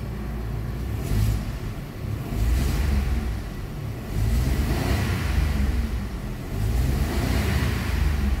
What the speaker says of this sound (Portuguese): senta a potência desse motor aqui